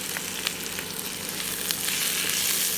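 Tomatoes drop into a pan of frying onions and chillies for a mackerel fish curry, giving a steady, close, continuous sizzle with no talk.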